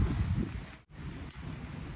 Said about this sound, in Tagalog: Inuulan-ulan pa din.